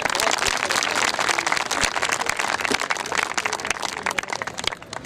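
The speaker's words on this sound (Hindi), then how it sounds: "पास्टर साहब के लिए जोरदार तालियां।" Applause from a crowd at a Christmas gathering in Pakistan, dense continuous clapping held at a steady loud level and thinning slightly toward the end.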